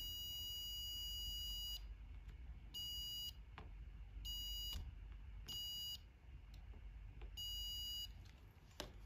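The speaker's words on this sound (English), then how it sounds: "we should also hear a buzzer sound indicating that this is a node" Electronic buzzer sounding as a circuit node is tested in a lab, five short high-pitched tonal bursts in an irregular rhythm over a low background hum, with faint clicks between them.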